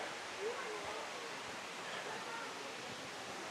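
Irpu waterfall in Nagarhole Tiger Reserve, running with only a little water, gives a soft, even hiss of falling water heard from a distance, faint and unchanging across the moment.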